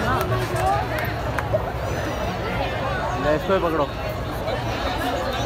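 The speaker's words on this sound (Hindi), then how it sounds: "आज तो भाई आज तो गजब ही भीड़ है" Crowd chatter at a live concert in Kota, a dense, steady hubbub of many voices close by, with nearer people talking over it.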